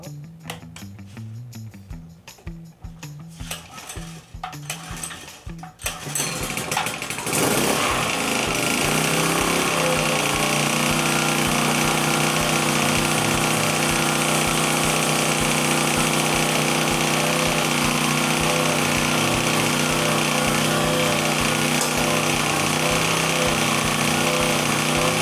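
A Predator generator engine is rattled with pull-cord tugs for a few seconds, then catches and roars into a loud, steady, close running drone that holds to the end.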